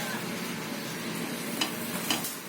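A paratha frying in oil on a tawa makes a steady, soft sizzling hiss close by, with a couple of faint clicks near the end and no voices.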